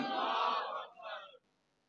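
A crowd at a religious gathering roars back in unison to the takbir call, a loud massed shout in two surges lasting just over a second before it cuts off.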